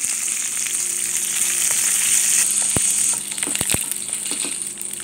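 Mustard seeds, dried red chilies and curry leaves temper in two spoons of hot oil with a loud, dense sizzle that eases slightly near the end, broken by a few sharp pops and utensil taps.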